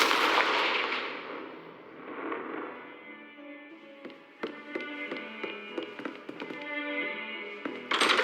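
A Confringo blasting spell goes off in Hogwarts Legacy, a burst of explosive noise followed by a string of sharp crackling impacts and rumbles that fade into quieter debris sounds.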